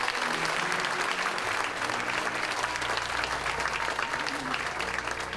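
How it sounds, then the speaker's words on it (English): Sustained, dense applause from a large audience at a county volunteer honors ceremony, steady and full throughout with no individual claps standing out and no talking. "let's give her one more round of applause"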